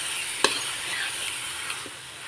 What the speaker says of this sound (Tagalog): haluin lang natin. Ikahan lang natin mabuti yan guys